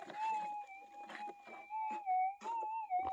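Faint, steady warbling tone from a metal detector sweeping ground at an old Australian gold mine, with a short rising blip over a gold target, under soft digging and handling noises.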